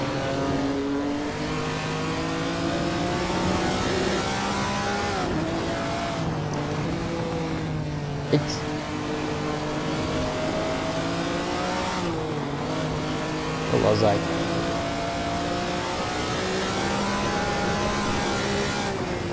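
Ferrari car engine in the Assetto Corsa racing game, droning steadily and rising and falling through repeated gear changes as it accelerates. A brief muttered voice comes in partway through.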